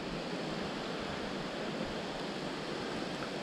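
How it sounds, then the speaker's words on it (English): A small waterfall spring on a big hillside along a forested trail, heard as a steady broadband rush of falling water, close and continuous with no voices. "there's a little waterfall spring over here"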